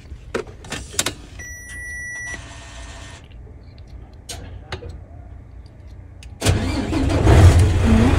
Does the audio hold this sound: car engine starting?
yes